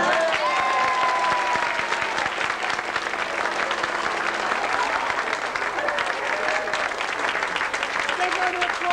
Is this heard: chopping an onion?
no